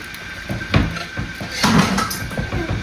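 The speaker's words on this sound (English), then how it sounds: "We have to open the oven door, Randall." An oven door opens in a home kitchen while supper is cooked, giving a few dull clunks and a metallic rattle against soft household background noise.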